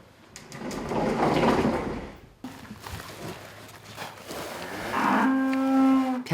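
Cattle on a farm with ten cows low at morning feeding time, a long resonant moo near the end preceded by shuffling, a sliding door-like scrape and muffled lowing.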